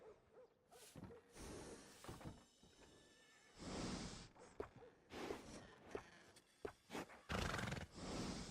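A horse neighs and whinnies repeatedly in Red Dead Redemption 2, layered over busy game ambience with snorts and thuds, loud and close at times.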